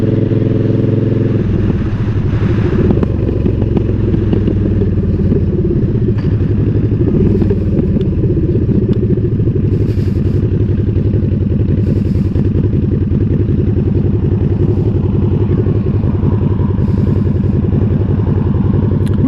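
A motorcycle on the move: a loud, close engine drones steadily with a rough, throbbing note and slight shifts in pitch as the rider cruises, with no speech.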